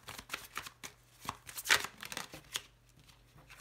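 Petit Lenormand card deck being cut and shuffled by hand, a run of crisp close card flicks and slaps with one louder snap, no talking.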